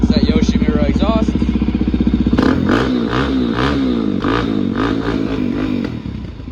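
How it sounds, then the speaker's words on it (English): A 2017 Suzuki DRZ400SM with a Yoshimura exhaust, warm from running, fires up after a starter crank and settles into a loud, close, lumpy single-cylinder idle with quick blips of the throttle. "let's start her up. It's warm, so it started up easy. It's that Yoshimura exhaust."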